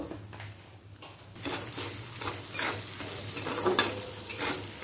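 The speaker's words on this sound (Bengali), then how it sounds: "আদার সাথে ফোড়নটা ভালো করে মিক্স করে নেব।" Ginger and tempering spices stirred in a pan while making sattu puri filling, a steady close sizzle with scraping spatula strokes that grows louder after the first second.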